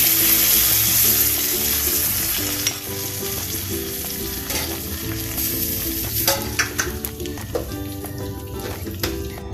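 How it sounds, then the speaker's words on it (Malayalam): A hot mustard seed tempering with curry leaves and dried red chillies is poured into a tamarind ginger curry for Onam. It sends up a loud, sustained sizzle with clattering stirring strokes and no talk. "ഇനി നമ്മുടെ ഇഞ്ചിക്കറിയിലോട്ട് കടുക് വറുത്തത് ഒഴിച്ചു കൊടുക്കണം."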